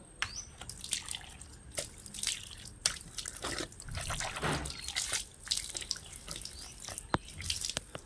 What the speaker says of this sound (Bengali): একটু মুখে হাতে জল নেবো